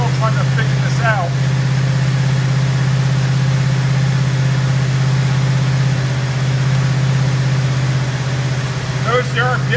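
The V8 engine of a 1973 Mustang convertible idles at a raised speed, a steady, loud, low hum that stays even throughout, with voices speaking briefly over it near the start and end.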